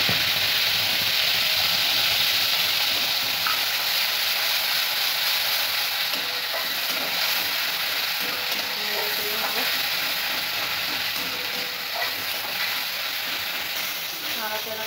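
Onion and chili paste sizzling loudly in hot oil in a wok, a steady dense crackling hiss with occasional stirring scrapes throughout.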